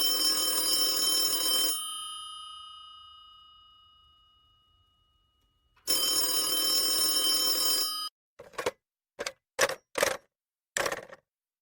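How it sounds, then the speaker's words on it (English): A telephone in an old radio drama rings the police department with a long bell ring that fades out, a second ring after a pause, then a string of short clicks and dings, and no talk. "Ringing the police department."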